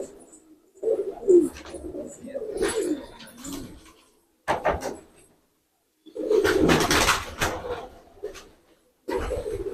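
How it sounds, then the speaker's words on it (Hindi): Rampuri pigeons coo close by in low, throaty bursts, several calls separated by short pauses, with some rustling between them. "प्योर कंडीशन में रामपुर वाले कबूतर।"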